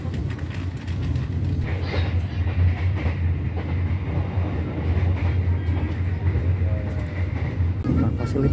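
Matarmaja passenger train pulling out of Semarang Tawang station, a steady low rumble with rhythmic clickety-clack of the wagons, heard from close by and continuing throughout.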